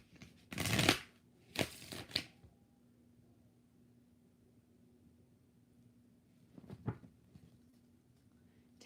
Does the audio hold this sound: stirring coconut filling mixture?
no